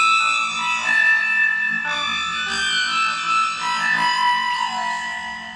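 Boss PS-5 Super Shifter pitch shifter pedal producing experimental, tinny non-guitar tones: dense stacked shimmering harmonics that sustain and shift steadily, with no voices present.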